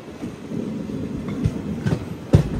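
Passenger train 12604 from Cherlapally to Chennai Central rolls along the tracks near Vishnupuram junction, a steady rumble broken by a few sharp wheel clacks over rail joints.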